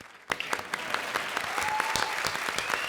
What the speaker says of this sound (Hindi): थैंक यू अरबाज के लिए ताली बजाई